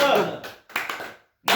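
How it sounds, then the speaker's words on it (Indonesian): A group performs a rhythmic Indonesian spirit clap, tepuk semangat, in a teacher training session: a few short bursts of hand claps separated by brief silences, close and clear. "Tepuk semangat dulu ya."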